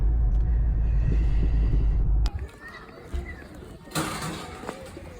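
A car driving home, heard from inside the cabin as a loud, steady low road and engine rumble that drops to a quieter drone partway through, with a few faint bumps and knocks.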